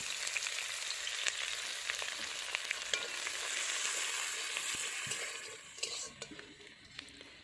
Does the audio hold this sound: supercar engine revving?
no